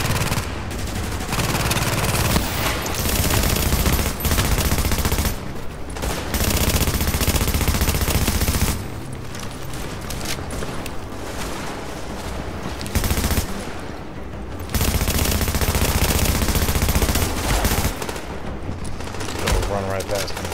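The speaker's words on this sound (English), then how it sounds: "Oh, that grenade launcher." Rapid gunfire and grenade launcher blasts from a video game, loud and continuous with bursts separated by brief lulls, a voice speaking over the action.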